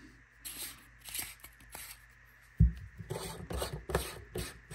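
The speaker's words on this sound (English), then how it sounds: "there's a lot of screwing" Threading a FR-1 tactical ring onto a NexTorch TA30C flashlight: soft, close scraping and ticking with small clicks and one sharp knock, with no talking.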